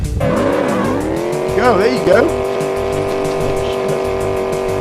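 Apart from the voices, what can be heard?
car engine revving and tires squealing in a video game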